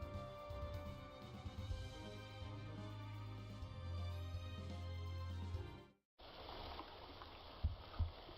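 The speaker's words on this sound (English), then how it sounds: "So, you just hear the waterfall" Steady rushing waterfall in the 3D Metroidvania video game Poppet Quest, a continuous broad wash layered under low droning ambience, cutting out briefly before a thinner, brighter water hiss resumes alone with no talk.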